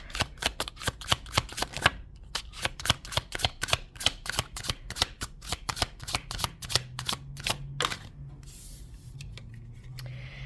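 A tarot deck is shuffled in rapid riffles of sharp, crisp card snaps, close to the microphone, with a brief pause between runs. Near the end a soft low hum sits under the sound.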